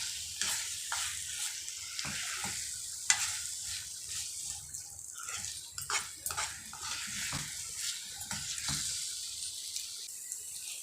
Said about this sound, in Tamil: சேர்த்து இதை நல்லா கலந்து விட்டுடலாம்.